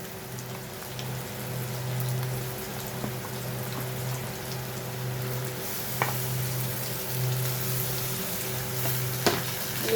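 Bitter gourd paste frying in hot oil with onions, a steady crackling sizzle that holds for the whole stretch over a low constant hum, with no one talking.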